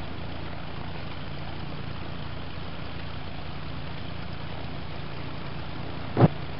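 A B-25 bomber's engines drone steadily at takeoff, a constant muffled rumble throughout, broken near the end by one brief sharp thump.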